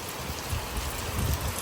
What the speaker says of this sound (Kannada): ನೋಡಿ ಎಷ್ಟು ಚೆನ್ನಾಗಿ ಮಳೆ ಬರ್ತಿದೆ